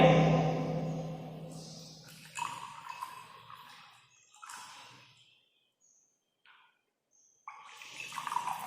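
Water poured into glass tumblers in a short series of splashy, gurgling pours with brief pauses and a near-silent gap, each pour close and fairly loud, no voices heard.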